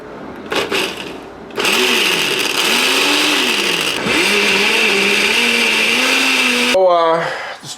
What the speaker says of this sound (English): I just push the spears straight down into the blender.